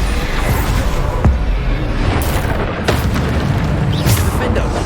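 Bombarda spell blasts in Hogwarts Legacy, several heavy booming explosions landing amid a busy combat mix, with a voice shouting spell names over the fight.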